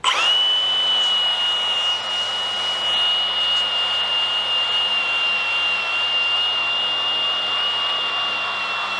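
An angle grinder fitted with a stripper surface-prep disc runs continuously against steel, stripping mill scale with a steady high-pitched whine and a rough grinding hiss at close range.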